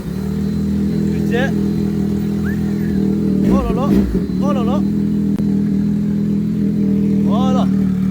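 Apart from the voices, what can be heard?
motorbike engine revving as the rider sets off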